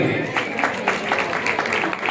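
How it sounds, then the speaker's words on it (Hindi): Rhythmic clapping from an audience at a devotional bhajan program, honoring the keyboard player; evenly spaced, fairly loud claps with a voice mixed in. "लगाइए ताली जरा जी।"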